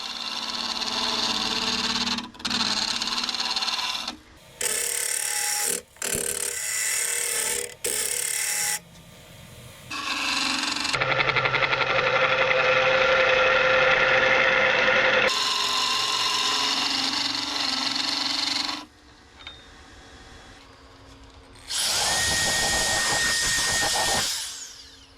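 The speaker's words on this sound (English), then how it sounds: "Now this here's the Easy Wood number 3 hollower. It works really good for getting on these inside edges." A wood lathe spins a segmented walnut and purpleheart turning while an Easy Wood number 3 carbide hollower cuts the inside edges, making a steady motor hum with scraping bursts that start and stop, close and loud.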